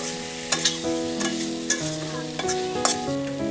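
Diced potatoes hitting hot spices in a frying pan for an egg and potato curry, with a steady sizzle and a few sharp clatters of stirring, all under continuous background music.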